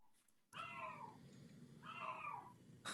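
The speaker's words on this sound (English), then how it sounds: "Damn that cat." A cat shut in a bathroom lets out two long, drawn-out yowling meows close by, each sliding downward in pitch, with a brief noise at the very end.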